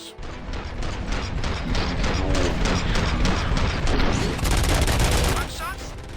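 Rapid bursts of gunfire in the video game RoboCop: Rogue City, dense and loud, with booms and mechanical clatter, sustained for several seconds.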